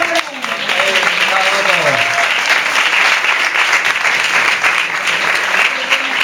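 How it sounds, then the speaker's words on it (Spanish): Audience applause for a performer at a tango, flamenco and action painting stage show, full steady clapping that starts with a brief sung or spoken voice fading out, then continues evenly throughout. "Un aplauso para él, hombre."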